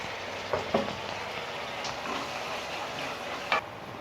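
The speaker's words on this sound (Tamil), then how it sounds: "பாருங்கள், இப்போ தக்காளியும் நல்லா வதங்கிடுச்சு" Tomato and onion sautéing for a spicy potato curry, a soft steady sizzle throughout with a few sharp clicks of a spoon against the pan, fairly faint and with no talk.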